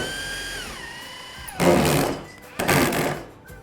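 A power drill whines as it drives a high-thread screw into a timber joist during metal-frame ceiling installation, a steady rising motor tone followed by two loud grinding bursts as the screw bites, close and with no talk.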